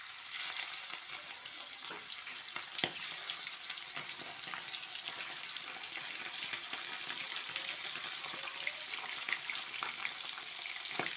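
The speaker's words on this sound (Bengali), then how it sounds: "এবার আমি আগে থেকে ধুয়ে রাখা ফলির মাছগুলো ভেজে নেব" Phali fish fry in hot oil in a wok, a dense, continuous close-up crackling sizzle that holds steady throughout with scattered sharper pops and no talking.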